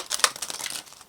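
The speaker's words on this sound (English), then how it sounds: "One more shuffle." A deck of tarot cards being shuffled, a quick run of crisp papery riffles and crinkling flicks with one sharper snap near the start, close and fairly quiet with no talking.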